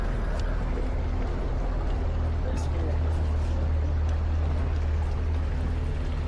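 A motorboat under way on Lake Kenyir, its engine a steady loud low drone over broad continuous water rush and hiss, close and unbroken throughout.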